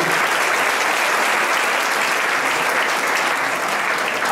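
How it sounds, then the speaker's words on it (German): A live audience at a Berlin stage show claps steadily in dense, sustained applause that fills the whole stretch at an even, loud level without letting up. "Großen Applaus."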